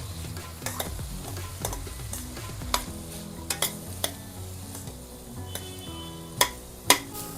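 Whole spices roast in a pan for Malvani masala and are stirred with frequent scraping strokes. Sharp ticks and clicks rise above a low, continuous frying sizzle. No one speaks.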